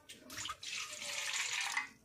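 Water splashes into a bowl of besan (gram flour) while khaman batter is being made. The pour is brief, close and steady and lasts about two seconds.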